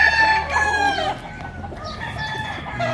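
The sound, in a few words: chicken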